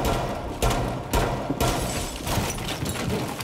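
Gunfire in Rainbow Six Siege as window glass is shot out: a rapid, loud burst of repeated shots with heavy thumps, continuing for several seconds.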